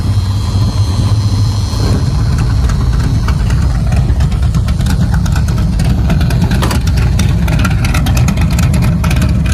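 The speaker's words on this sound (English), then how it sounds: "And that's your sound with the exhaust cutouts." A muscle car engine with its exhaust cutouts open roars loudly and up close, rumbling steadily with repeated revs and no talking.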